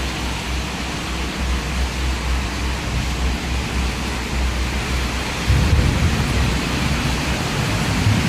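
Heavy rain pours over Chittagong city, a dense continuous roar of falling water with a low rumble, growing slightly louder and fuller toward the end.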